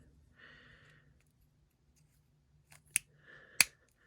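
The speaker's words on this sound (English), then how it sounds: "you click that and it makes it sound like his weapons are firing" Clicking the weapon-firing sound mechanism on a vintage Kenner action figure gives two sharp, bright plastic clicks close by, a short rustle before each, with quiet background otherwise.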